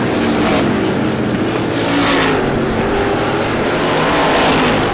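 Stock cars racing on a speedway during the 51st Star Classic, a loud continuous engine roar from several cars in traffic that swells and fades slightly as the field comes down the front straightaway.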